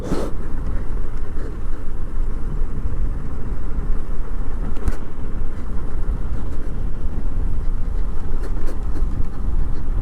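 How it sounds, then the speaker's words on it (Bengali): A vehicle engine labouring up a steep, winding hill road, a steady loud low rumble and roar throughout with no letup, close and dominant, with faint rattles on top. "এইটা বুঝতেছে কেমন প্রেশার যাচ্ছে তার ইঞ্জিনে"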